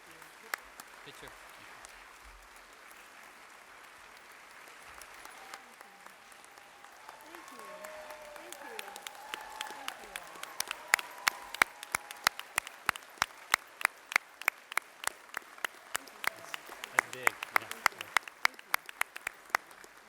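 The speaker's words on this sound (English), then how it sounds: "let's give one more round of applause for Ms. Simmons today" Audience at a new student convocation breaks into applause that starts faint and swells into steady, loud clapping filling the hall, with a voice speaking over the start.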